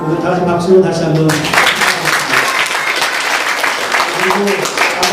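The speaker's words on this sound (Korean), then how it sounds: "박수로 다시 한번." A congregation applauds at a Christmas service, dense clapping breaking out after a spoken voice and continuing loud and steady.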